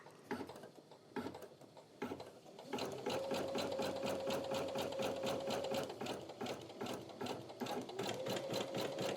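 An embroidery machine stitches a basting frame around a design in a 5x12 inch hoop, giving a fast, regular mechanical rattle of needle strokes. It starts in short bursts, then runs continuously and close.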